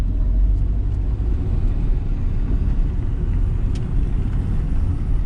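A car pulls away slowly at low speed, its engine a steady low rumble from inside the cabin, continuous and even with no voices.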